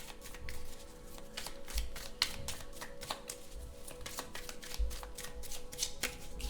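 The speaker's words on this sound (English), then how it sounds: "Sorry, cards are falling." Tarot cards slip and patter, with a run of light papery taps and flicks that suggest cards sliding and landing as the deck is handled, soft and close with no talking.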